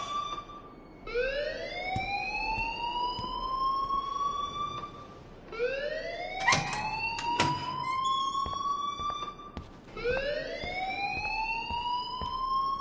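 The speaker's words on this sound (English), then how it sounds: "please turn off that alarm since that's your job" A wailing fire alarm in the video game Life is Strange sounds in three long rising sweeps, loud and repetitive, with a few sharp clicks and knocks between cycles.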